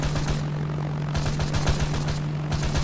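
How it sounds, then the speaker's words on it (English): In the video game Arma 3, a Caesar plane fitted with two automated AAF heavy machine guns fires rapid, rhythmic bursts of gunfire over a constant propeller drone. The shots come in repeated loud volleys with short gaps between them. "what you're looking at is the Caesar plane, but with 2 of the AAF HMGs, and it's the automated versions."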